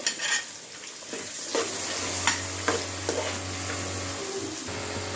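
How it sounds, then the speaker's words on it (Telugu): Prawn pieces, onion and green chillies fry in oil for an Andhra prawn gongura curry, giving a steady close sizzle with a few scraping stirs and light utensil knocks throughout. "ఆయిల్లో రొయ్య ముక్కలు కొద్దిగా వేగాక ఉల్లిపాయ పచ్చిమిరపకాయల్ని వేసేసుకోవాలి"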